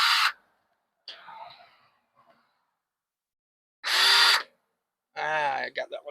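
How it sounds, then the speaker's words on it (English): Cordless drill driving pilot holes into a wooden beam edge for a front porch gate, heard as short close bursts separated by pauses, with someone talking briefly between them. "So we're just drilling"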